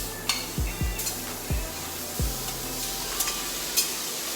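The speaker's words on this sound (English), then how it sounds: "Add some oil to the butter and I'm about to put the meat on." Meat sizzles in butter and oil in a hot pan, with a steady frying hiss broken by a few low thuds and knocks as the food is handled and moved around. No one speaks.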